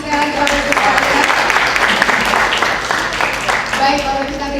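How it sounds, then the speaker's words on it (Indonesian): An audience at a panel discussion event bursts into applause, the crowded clapping running loud and continuous beneath a voice and some tonal sound. "Berikan tepuk tangan sekali lagi Bapak Ibu sekalian."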